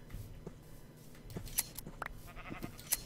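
Sheep in Minecraft give a few short, quiet bleats alongside light clicking and shearing game sounds, spaced irregularly over a few seconds with no talk.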